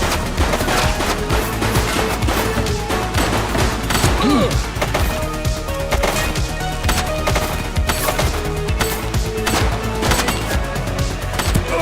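Dense shootout gunfire from the police video game The Precinct, a steady roar of rapid automatic bursts and overlapping shots with crashing impacts, loud and continuous throughout.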